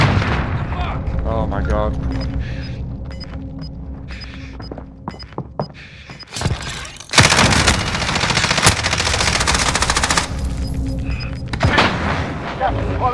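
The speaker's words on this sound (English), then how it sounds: "I'm under fire!" Call of Duty gunfire crackles in bursts throughout, with heavy rapid volleys from about 6 seconds that roar loud and dense, layered with explosions and game effects while a player briefly exclaims over the chaos.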